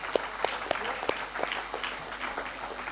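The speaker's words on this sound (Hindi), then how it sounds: "Please तालियां बजा लीजिए" Applause at a student award ceremony during a school valedictory function: a moderate crowd claps steadily, with several sharp individual claps standing out near the start and the sound softening somewhat toward the end.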